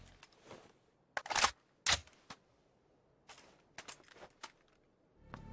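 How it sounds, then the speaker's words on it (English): Crisp mechanical gun handling clicks and clacks from the shooter game PUBG come in short separate bursts: sharp metallic snaps, a rattle, then a brief slide, all close and alone. "gun handling sound effects are being improved"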